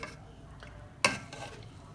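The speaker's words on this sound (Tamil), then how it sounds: "அந்த அரிசி மட்டும் லைட்டாக திருப்பி விட்டுக்கிறேன் நான்" Chicken vadi biryani rice being turned over in a pot, a single close scraping stir with a brief clink of the spoon against the metal, then a soft rustle of grains over a faint steady hiss.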